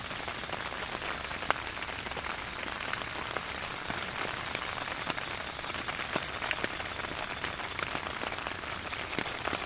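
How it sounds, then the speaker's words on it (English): Steady rain falling outdoors, a dense, even hiss of drops with scattered sharper patters throughout, constant and moderately close with no voices. "the rain is picking up a little bit"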